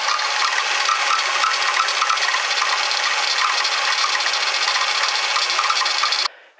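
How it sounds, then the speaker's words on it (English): A steady, continuous rasping whir of a water-soaked engine drive belt running on a Ford Taurus, broadband and unchanging, then cutting off abruptly near the end. "That noise is the belt. It's got water on it,"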